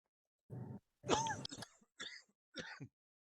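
A person coughs and clears their throat in a short series of four harsh bursts, close up, with silence between them.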